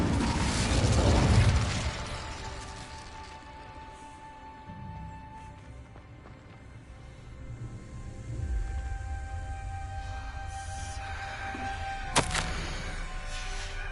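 Incendio fire spell cast in Hogwarts Legacy, a loud whooshing burst of flame at the start that fades into rumbling game ambience, with a sharp crackling flare near the end.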